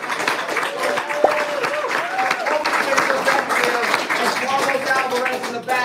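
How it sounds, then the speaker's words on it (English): Audience at an Amazon FBA wholesale seminar clapping, with whoops and cheers mixed into the steady applause throughout, fairly loud and close. "Can you get a round of applause?"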